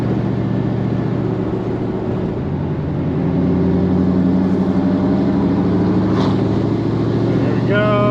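A Pontiac GTO fitted with a Wilwood big brake kit runs at steady road speed, its engine and tire drone loud and continuous, with a brief squeal near the end as the brakes are slammed hard.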